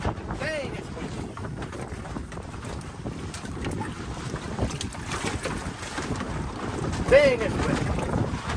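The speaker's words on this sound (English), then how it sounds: "Man, I can't believe how windy." Steady, loud wind buffeting the microphone outdoors at a dry-washing site on bedrock where gold prospecting is under way, a constant rumbling roar for the whole stretch with a brief stronger gust near the end and some voice mixed in.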